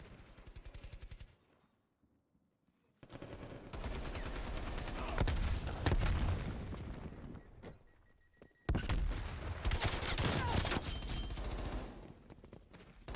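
Gunfire in the shooter game Call of Duty: Black Ops Cold War: dense, loud bursts of rapid automatic fire with booming impacts, broken by a brief near-silent gap and a short dip before a second heavy barrage.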